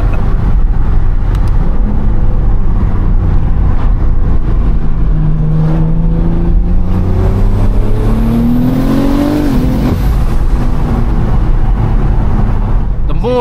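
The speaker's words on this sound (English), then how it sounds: "This car is going to be heard from all sides of Earth." A 1400bhp BMW M3 Touring, running on low boost, drives hard and revs loudly and close, its engine note rising and falling in sweeping pitch changes over a constant rumble, with a voice heard faintly.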